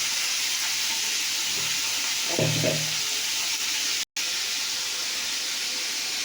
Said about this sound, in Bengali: নাড়াচাড়া করে দিলাম।